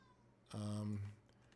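A cat gives a single short, loud, close meow that stands out against a quiet room.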